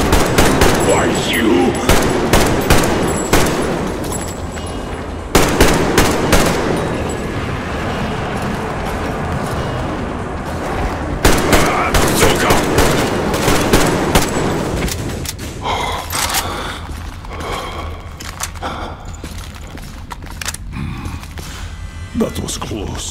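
Rapid bursts of automatic gunfire in Metro Exodus rattle loudly as shots are fired at mutants, dense volleys giving way to more scattered clicks and shots later, with a voice speaking briefly among them.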